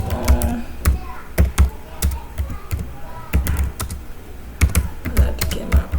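Fingers type on a computer keyboard while writing an email, a steady patter of close, sharp key taps with a few louder strokes and some talking in between.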